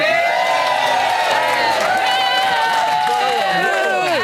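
A studio audience at a live reality TV show cheers and whoops loudly and continuously, a dense crowd roar with a voice speaking over it.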